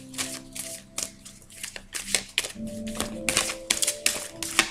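Oracle cards being shuffled by hand, a quick series of crisp riffling bursts that repeat in a loose rhythm, close and moderately quiet, with no talk over them.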